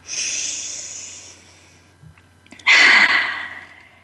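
A deep breath during a guided breathing exercise: a long airy inhale, a quiet pause, then a strong, loud exhale that fades out gradually, close and alone.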